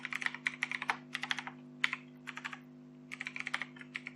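Rapid typing on a computer keyboard during a JavaScript coding session, with bursts of close, crisp key clicks broken by short pauses over a steady low electrical hum, no voice.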